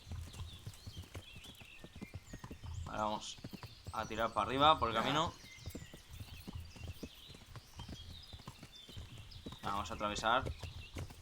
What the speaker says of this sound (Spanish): ahora hacemos que spawnee aquí el caballo.